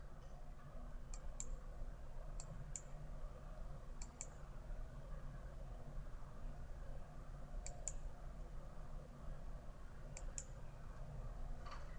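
Sharp mouse clicks on a computer, made while switching between tabs of a university dashboard web page, come in small pairs and singles spread across the stretch, faint and close over a steady low background hum, with no one talking.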